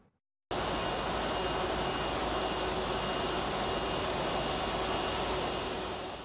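A passenger airplane at an airport during an official state arrival, its jet engines giving a loud, steady broadband roar that starts abruptly after a brief silence and holds evenly throughout.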